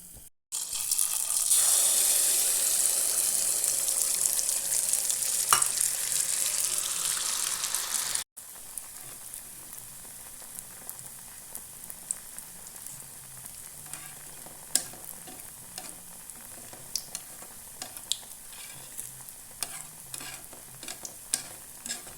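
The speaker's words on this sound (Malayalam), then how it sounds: "മറു സൈഡും ഇട്ട് കൊടുത്ത് നമുക്ക് മൂപ്പിച്ചെടുക്കാം" Wheat neyyappam frying in a pan makes a loud, steady sizzle for about eight seconds, then drops to a quieter bubbling hiss scattered with small pops and stirring clicks.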